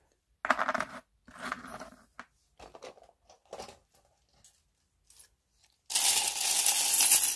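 Small charms drawn and cast for a divination reading, rattling and clinking in short uneven bursts close by, then ending in a long, loud, bright clatter as they are tossed out.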